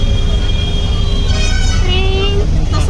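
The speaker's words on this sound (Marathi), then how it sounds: "रेवांश तुला ट्रेन दिसली का?" A passing train's horn sounds over busy city traffic, heard from inside a moving auto-rickshaw, with a sustained tonal blast in the middle standing out above a loud, constant road and engine rumble.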